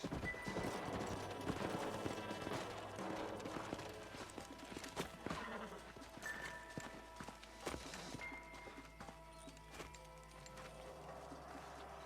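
Horses clip-clop at a trot in the Red Dead Redemption video game. The hoofbeats sound close and rhythmic, mixed with music and other game sounds.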